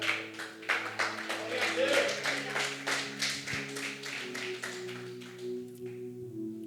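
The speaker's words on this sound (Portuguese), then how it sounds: "Você diga amém e se assenta aplaudindo a Jesus." A church congregation at a Friday worship service applauds for Jesus, a steady run of moderate clapping over sustained organ or keyboard tones, thinning out toward the end.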